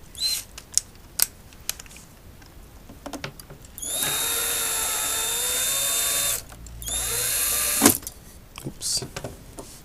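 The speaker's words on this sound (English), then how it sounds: "get the screwdriver." A power screwdriver runs in two steady whirring bursts of a couple of seconds each, close by, while an Inmotion V5 electric unicycle tire is taken apart, with scattered clicks and handling noises around the runs.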